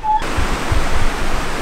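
A waterfall roars up close as steady, broadband rushing water on a hiking trail, loud and continuous with no talking.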